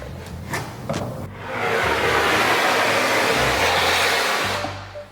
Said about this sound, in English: now you have a central vacuum built into the entire home